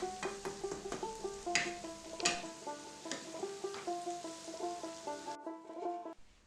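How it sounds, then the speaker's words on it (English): A utensil stirs tomatoes and onions frying in a pan for khichuri, giving repeated scraping clinks over a soft sizzle with steady tonal sounds underneath, close and moderately loud, with no voices. "I stir it a bit more and let it rest for a bit"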